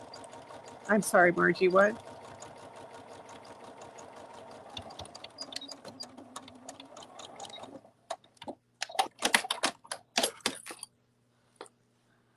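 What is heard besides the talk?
sewing machine stitching a cuddle bunny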